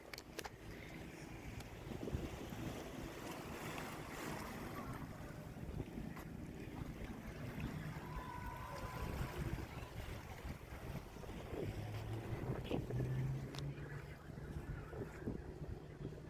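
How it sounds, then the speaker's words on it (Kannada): Boats riding on the Arabian Sea near the shore: a steady, moderately loud wash of engine and wave noise, with wind buffeting the microphone throughout and no voices. "ಬೋಟ್ ರೈಡಿಂಗ್ ಮಾಡ್ತಾ ಇದ್ದಾರೆ ನೋಡಿ"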